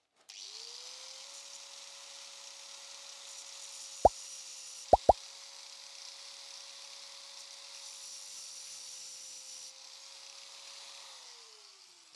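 Power grinding on a DoAll gearbox part, gashing relief grooves by hand: a steady high whine spins up, holds for about ten seconds and winds down, broken by three sharp knocks near the middle.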